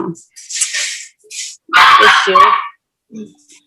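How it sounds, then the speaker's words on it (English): A dog barks and yips in short bursts close by, with a longer whining bark in the middle and quiet pauses between. "my dog is barking"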